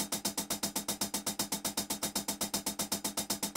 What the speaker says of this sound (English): So you can hear that round robin sample library happening.